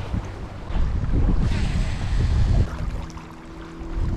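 Wind buffets the microphone in a low, roaring rush that swells into a stronger gust midway, then eases back.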